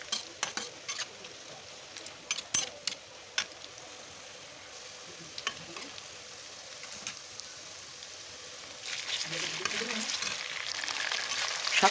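Ginger, garlic and cumin paste hits hot oil with onion, cardamom and bay leaf, giving a sharp sizzle that swells into steady frying hiss, preceded by clinks and stirring taps of a utensil against the pan.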